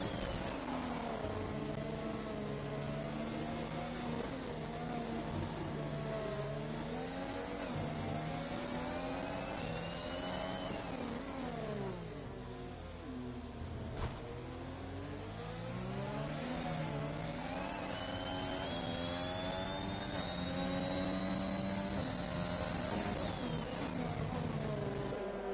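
A race car engine in a Formula-style racing video game revs hard under aggressive throttle, its pitch climbing and dropping through gear shifts in a continuous, loud whine with no talk over it.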